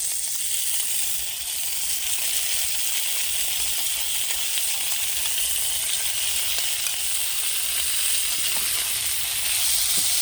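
Canned fish sizzling in a hot pan with chili and garlic for a Thai basil stir-fry, a loud, continuous bright frying hiss with faint crackles, steady throughout and with no talking.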